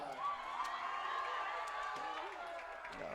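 A football crowd at a high school game between Rancho Dominguez and Leuzinger cheers for the Leuzinger Pep Squad, a steady wash of cheering and scattered whoops with some clapping, fairly distant and continuous.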